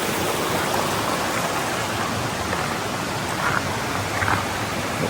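Abundant water flows in a stream with a steady, dense rushing wash that continues unbroken throughout, and no one speaks over it.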